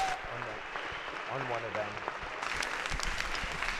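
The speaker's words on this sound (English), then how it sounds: "Give them a round of applause." Applause from members in a legislative House chamber during a floor session, a steady patter of clapping that swells in the final second and runs beneath continuous talk from the floor.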